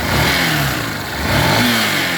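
A Yamaha Fazer 150 motorcycle engine, tested with its stator disconnected, is blipped up and down twice in quick succession, loud and close with no talking.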